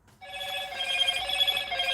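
A telephone rings with a sustained electronic bell tone that holds steady for about two seconds, loud and close, with no talk over it.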